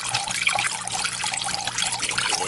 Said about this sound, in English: The water that is actually making noise covers up the sound of the pump